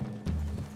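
Horse hooves clop on the ground in Red Dead Redemption 2, a short burst of close, fairly loud steps with a hint of snorting or whinnying and no talk.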